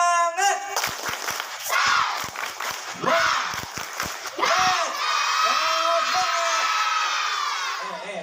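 Schoolchildren at SDN Sungai Miai 2 elementary school in Banjarmasin do a rhythmic spirit clap, sharp patterned claps with shouted chants, then break into loud, sustained cheering and whooping.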